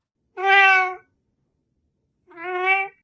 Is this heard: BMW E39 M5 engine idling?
no